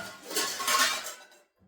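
Kitchen dishes and pots being handled, a short close burst of clinking and scraping that swells, fades to near silence and ends with a faint knock.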